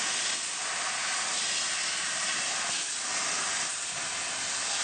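A cutting machine slices 1.2 mm carbon steel sheet using compressed air at 10 bar, giving a loud, steady, unbroken hiss that holds evenly close up throughout.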